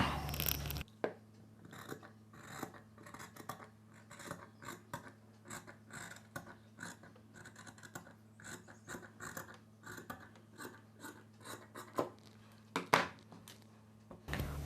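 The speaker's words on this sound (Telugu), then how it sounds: "మార్కింగ్ చేసుకున్న ఈ పీస్ని వరకు కట్ చేసుకోవాలి" Scissors snip and rasp through cloth being cut along a marked petal shape for a child's hair scrunchie, giving a steady series of short crisp cuts, close and fairly quiet, with a low hum underneath.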